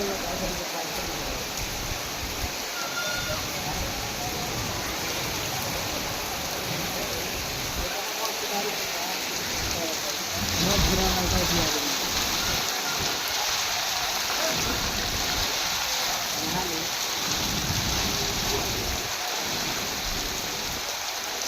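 Heavy rain pours steadily in Ballia district, a dense continuous hiss of water drumming on surfaces, with faint voices murmuring now and then beneath the downpour.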